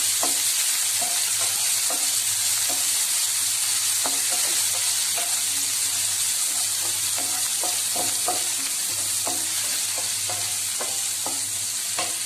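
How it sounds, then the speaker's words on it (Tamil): Chopped onions fry in a pan for moringa pulao, a steady loud sizzle running throughout with frequent sharp scraping taps of a spoon stirring them against the pan. "வெங்காயம் நல்லா ஃப்ரை ஆனதும்"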